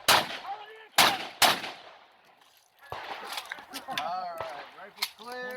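Rifle shots from a ZPAP M70 AK-47 at a shooting match ring out as three loud, sharp reports in the opening second and a half. Quieter handling noises and faint voices follow.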